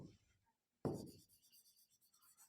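Chalk or marker strokes on a board in a Class 12 geography lesson on international trade, a soft scratchy rubbing burst followed by quieter scraping, with no talk over it.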